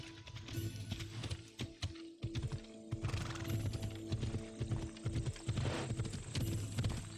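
Horse hooves clip-clop in the video game Assassin's Creed Odyssey, a steady rhythmic trot of close hoofbeats with a brief whinny, continuing for several seconds over faint game ambience.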